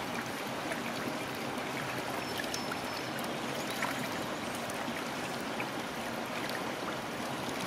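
Water flows steadily from a pump at a fish hatchery in Brule, Wisconsin, a constant faint rushing and trickling wash with no breaks.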